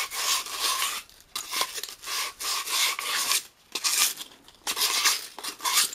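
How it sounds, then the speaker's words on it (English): Repeated strokes of 1000-grit sandpaper rubbing rust off a Stuart Turner pump, a close, loud rasping scrape in bursts of about half a second with short pauses between them. "It's like 1000 grit. Get rid of some of the old rust."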